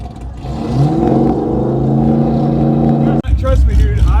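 A drift car's engine revs hard and steadily during a drifting session at a drift event, droning loud and close for several seconds, then cutting out abruptly before surging back in.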